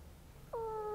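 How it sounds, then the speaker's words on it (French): A single cat meows once, close and fairly clear, against a quiet indoor background with no talk. "Si vous entendez des miaulements, c'est normal."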